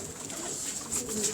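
Pigeons coo softly in a rooftop loft, a low, murmuring burble heard close but quiet against faint background hiss.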